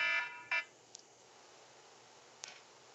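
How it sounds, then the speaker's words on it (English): A timer alarm gives two short, bright electronic beeps close together right at the start, followed by faint clicks over quiet room tone. "Well, that's the timer going off."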